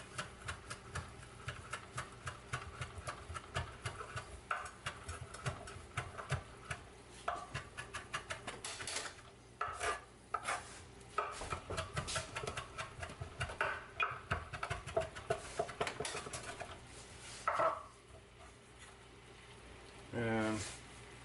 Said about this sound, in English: and commence chopping